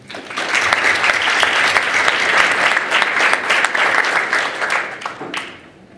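A conference audience at a telecom-sector investment session claps in sustained, dense applause that holds steady for several seconds before tapering off at the end.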